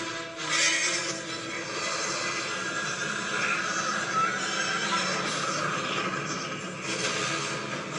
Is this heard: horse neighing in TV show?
yes